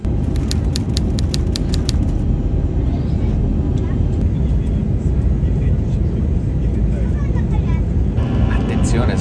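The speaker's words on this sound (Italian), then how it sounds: "L'aereo stava atterrando" Loud, continuous roar of a jet airplane cabin during descent into Moscow, a dense engine rumble that fills the whole stretch with a few faint clicks early on.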